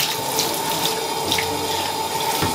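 Steady rush of shower water spraying continuously during a Jack Russell Terrier's bath, close and fairly loud with no voices.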